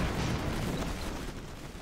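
Cannon fire in the Airships: Conquer the Skies game pounds an airship as a dense, rumbling wash of booms and impacts, loud and continuous, with no talk.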